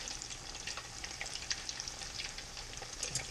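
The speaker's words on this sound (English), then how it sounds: "And then we'll let them cook for 3 to 4 minutes." Potato cakes made from leftover mashed potatoes frying in a pan, a faint but constant crackling sizzle with small spitting pops, heard alone and fairly close.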